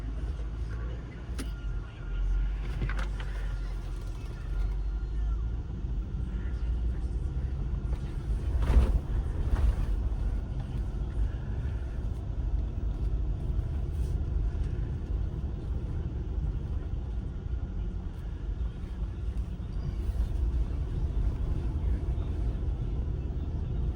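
A Lexus Land Cruiser truck, essentially a Toyota Land Cruiser, drives along with a steady low engine and road rumble throughout, a brief louder bump midway.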